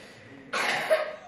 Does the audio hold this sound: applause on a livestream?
no